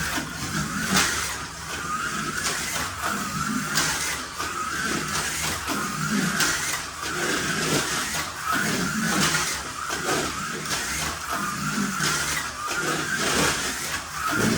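Slot cars, including a blue Corvette, race around a track at 10 volts, giving a steady, buzzing motor whine with a rhythmic pulsing as they lap, close and fairly loud.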